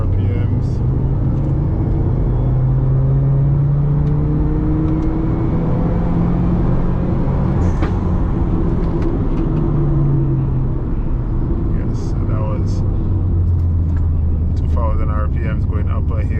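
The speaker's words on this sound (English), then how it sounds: "Go full throttle, third gear, 2000 RPMs." A Subaru converted to run on methanol accelerates at full throttle in third gear from 2000 RPM, a steady low engine rumble heard from inside the car while a person talks over it throughout.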